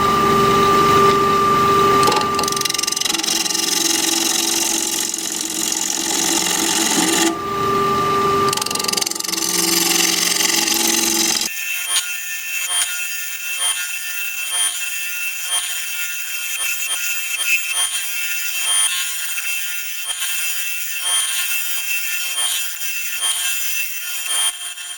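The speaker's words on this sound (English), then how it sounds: "Half-inch bowl gouge, freshly sharpened." A wood lathe spinning at about 1350 RPM while a freshly sharpened half-inch bowl gouge cuts a wooden bowl, making a continuous loud scraping whir over a steady mechanical hum.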